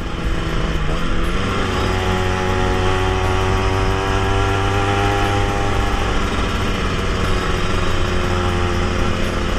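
A Suzuki RG Sprinter 91 motorcycle engine under way on a test ride, running steadily and close with a buzzing, harmonic tone that rises and falls slightly through the gears, with no talk over it.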